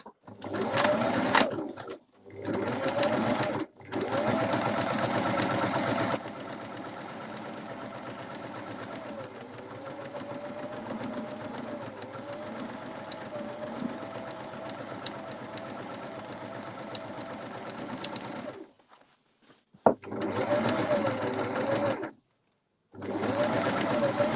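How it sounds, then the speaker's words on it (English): A sewing machine stitches around the edge of a fabric bowl cover in long, rapid mechanical runs, pausing briefly between bursts, close and fairly loud. "I'm just going to sew all the way around."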